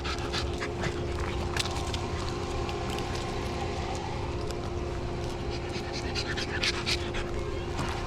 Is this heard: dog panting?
yes